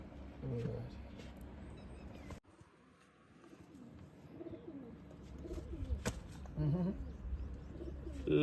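Old-breed pigeons, including a female from Pakistan, giving soft low coos close by, with someone talking over them and a brief flutter of wings.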